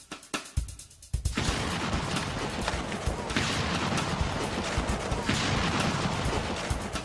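A cannonball is fired at a test wall in a siege trial and strikes its lower corner. A sharp blast and crack hits after a second of quiet, then a loud, sustained rumbling roar carries on to the end.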